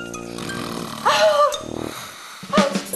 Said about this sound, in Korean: 코를 골다가 숨을 멈추는 남편 때문에 깜짝깜짝 놀라는 아내분들 많으시죠?